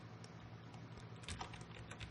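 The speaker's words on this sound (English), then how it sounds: "I'm going to rename this solid by hitting return on the main keyboard" Quiet, close typing on a computer keyboard, a soft patter of key clicks that picks up slightly toward the end, with no talking.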